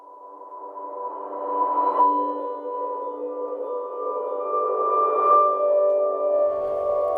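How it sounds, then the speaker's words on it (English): A sustained, swelling instrumental tone with a big reverse delay effect, building up into notes and carrying a long washy tail, moderately loud with no voices. "There's a really big reverse delay here."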